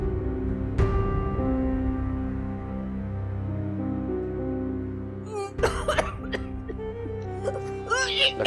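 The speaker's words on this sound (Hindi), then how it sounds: "माँ को फिर खांसी का दौरा पड़ा है।" A woman in a drama scene breaks into a coughing fit, with harsh rasping coughs and gasps following a sustained tonal background, close and loud over the music.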